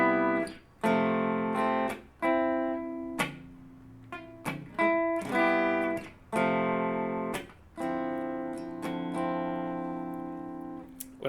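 Guitar rake strokes with the palm muting the strings on the downstroke, from a song: a steady run of about a dozen ringing strummed chords, each cut off sharply by the mute, played alone and close.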